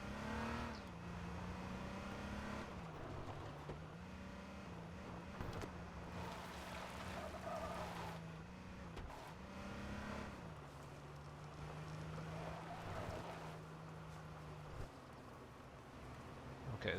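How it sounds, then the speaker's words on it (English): Player's own car engine in the H1Z1 battle royale game, a steady droning hum that rises and dips as the car revs and shifts, sounding slightly distant, continuous throughout with no talking. "Okay, that was just my own car."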